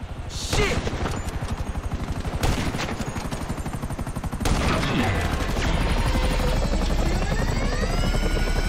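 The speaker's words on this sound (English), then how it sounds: "Something about the choppers before we're blown out of the sky." Police helicopter rotors thump steadily and loudly in GTA 5 during an air-unit chase, mixed with bursts of gunfire and explosions, the chopper noise swelling and continuing after a heavy blast midway.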